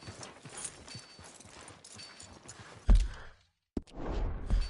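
Horse hooves clip-clop in Red Dead Redemption 2, soft and somewhat distant under game ambience, broken by a louder thump and a brief silence before the hoofbeats resume.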